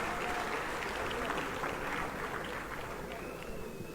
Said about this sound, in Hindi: जोरदार तालियां एक बार इनके लिए भी बजाई जानी चाहिए